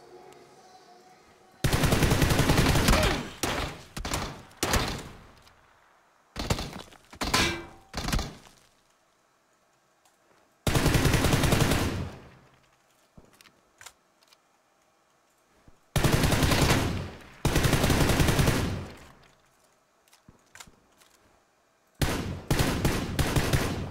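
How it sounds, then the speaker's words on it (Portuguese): Gunfire in a shooting video game: loud bursts of rapid automatic fire in several separate volleys, with short quieter gaps between them and no speech. "Ó, tiroteio já."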